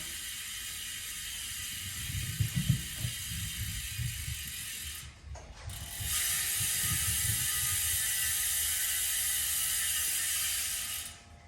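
A JGBike replacement rear wheel for an Ozark Trail FS 2 Slalom bicycle spins freely, its hub freewheel ratchet giving a fast, even, fairly quiet clicking buzz that runs continuously, close up, with a brief change partway through and no speech.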